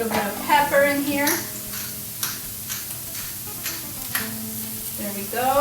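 Chicken and caramelized onions frying in a pan, a soft sizzle with occasional stirring scrapes and taps, heard beneath a person talking.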